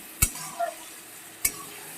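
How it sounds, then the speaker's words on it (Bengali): Masala sizzling in oil in a pan for a Bengali fish curry, faint frying hiss with two sharp spoon scrapes against the pan. "সুন্দর করে কষানো হয়ে গেছে তেলও ছেড়ে দিয়েছে কাঁচা গন্ধটা চলে গেছে লেগে যাচ্ছে"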